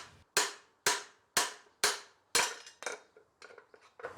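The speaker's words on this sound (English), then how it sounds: "I'm using a 2-pound hammer and it's pushing slow and steady" A 2-pound hammer strikes a driver to press in an extension housing bushing on an Astro or Safari, giving a steady series of sharp metallic blows about every half second that turn lighter and quicker toward the end.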